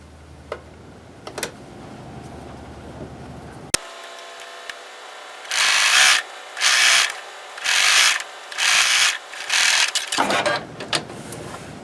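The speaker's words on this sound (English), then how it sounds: "we're just going to sew a straight line." A sewing machine stitches a straight seam on a quilt in five close, rhythmic whirring bursts separated by short pauses, with some handling rustles before and after.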